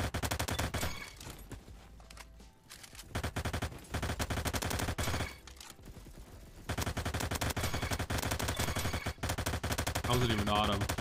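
Honey Badger gunfire in Roblox Bad Business rattles in long rapid automatic bursts with short pauses between strings, loud and close throughout.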